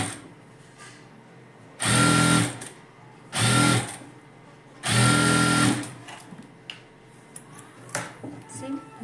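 A sewing machine stitches blouse fabric in three quick bursts of rapid mechanical whirring, each lasting about a second, with quieter pauses and a soft voice talking between them.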